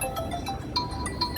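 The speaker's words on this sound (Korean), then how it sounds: "지금 전화가 들어오고 있어서." An incoming phone call rings with a repeating pattern of short electronic tones, moderately loud over a steady room hum during an interview.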